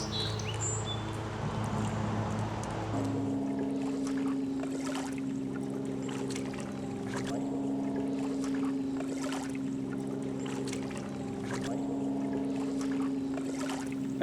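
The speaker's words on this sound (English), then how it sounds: "I usually rock the boat and see how stable it is" A homemade 9'8" coroplast kayak rocks on the water, giving a steady hum with soft sloshing and knocking, while faint birds chirp in the background.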